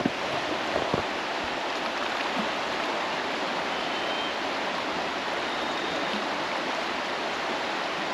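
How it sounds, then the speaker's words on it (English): A river flows right beside a campsite in a steady, rushing wash of water, broad and constant, with a couple of faint knocks near the start. "There is a river right here."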